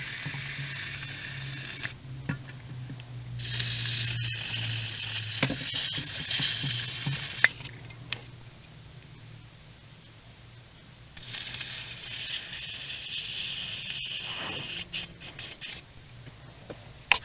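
Aerosol spray hissing onto a car's power steering part in two long bursts with shorter spurts between, close and fairly loud, set over a low background hum.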